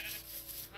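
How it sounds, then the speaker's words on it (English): Sheep bleating in a video game, a faint, brief animal call running under quiet background noise. "Hello, sheep. Oh, hello, lots of sheep."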